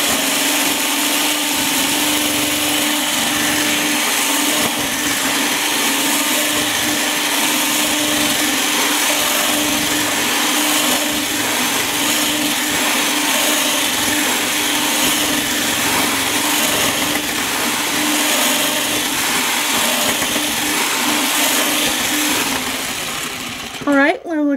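An electric mixer whipping cream into homemade butter, a steady loud motor whine with a constant high-pitched hum running for over twenty seconds before cutting off at the end.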